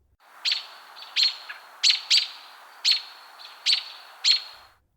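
American robin alarm calls, a series of sharp, evenly spaced chirps repeated about eight times, loud and near with no other sound.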